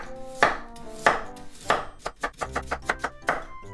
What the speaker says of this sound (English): Then I'm gonna cut this in about 2 to 3 millimeter slices.